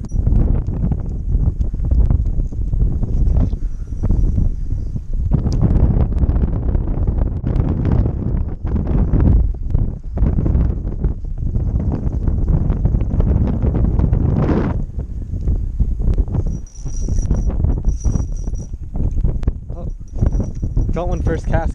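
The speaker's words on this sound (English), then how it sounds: "It is super windy" Strong offshore wind buffets the microphone on a fishing kayak in Texas in loud, rumbling gusts, with brief voices breaking through now and then.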